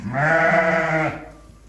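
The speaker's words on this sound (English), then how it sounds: "So these are my sheep, my females and babies, my ewes." A single long, close bleat from a flock of sheep ewes and lambs, wavering for about a second before it fades into quiet.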